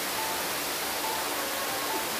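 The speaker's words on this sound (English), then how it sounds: "There's the waterfalls." Steady, broadband rushing roar of a waterfall in Arkansas, unbroken and fairly close, with no voices over it.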